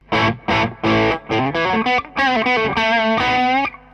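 Overdriven electric guitar on the bridge pickup through an amp's overdrive channel plays a short melodic phrase of distinct notes, loud and close, with a gritty distorted tone and no voices.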